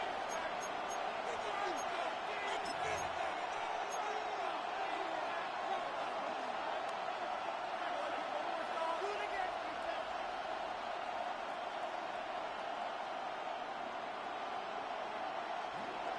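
Stadium crowd in the Madden 26 football game, a steady distant roar of cheering voices holding at an even level throughout, with faint thumps mixed in.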